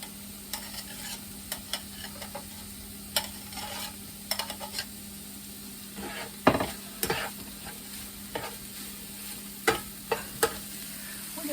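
Peppers, onions and spilled cabbage fry in a pan with a steady sizzle, while scattered spoon scrapes and taps ring out irregularly across the clip; no one talks.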